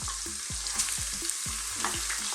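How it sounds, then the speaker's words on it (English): Lamb or mutton pieces go into a hot pressure cooker and sizzle steadily. Five or six low, regular thuds fall under the frying. "now we're going to add our lamb or mutton"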